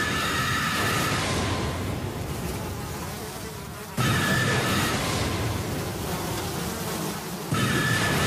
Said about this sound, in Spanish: mi Dios enviará plagas de moscas a ti y a tu pueblo.